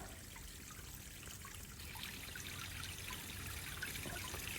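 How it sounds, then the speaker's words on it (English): A garden hose runs continuously, pouring water into a pond with a steady trickling, splashing wash that stays even and fairly close throughout, with no talk. "I've been refilling the pond. I've got the hose going."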